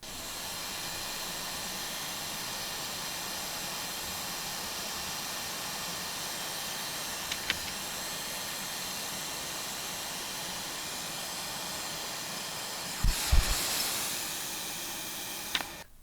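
A hot air station heats solder on an Xbox One S board, producing a steady faint airy hiss throughout with a few brief clicks and a short louder rustle near the end.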